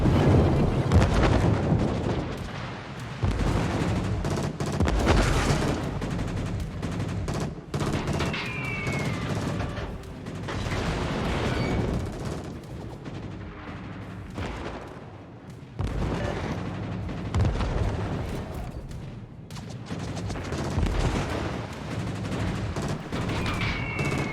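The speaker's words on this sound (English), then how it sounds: "Cleveland's gonna take shots at you now." The cruiser Cleveland firing its guns at a ship in World of Warships, heavy booming salvos rolling out one after another, loud and continuous, with explosive rumble filling the whole stretch.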